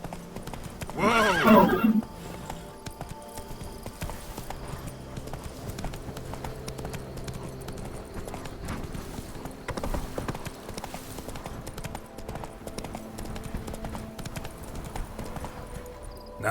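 Roach, a horse in The Witcher 3: Wild Hunt, gallops with rapid rhythmic hoof clops throughout, a loud whinny near the start and a shouted exclamation over it, game music underneath.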